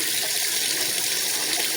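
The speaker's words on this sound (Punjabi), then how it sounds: "ਇਹਨਾਂ 'ਚ ਹੁਣ ਥੋੜਾ ਪਾਣੀ ਕੱਢ ਲਈਏ।" Hot water is poured off boiled raw green mangoes, a steady close splashing hiss with no talking.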